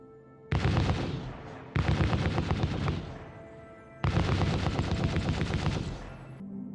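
Turrets on an Anvil Carrack ship in Star Citizen fire loud, rapid automatic bursts, three sustained volleys of close, dense gunfire separated by short pauses.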